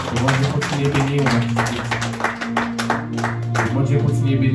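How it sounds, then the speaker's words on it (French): A church congregation claps together in steady, dense applause over sustained background music, loud and continuous throughout. "Applaudissez."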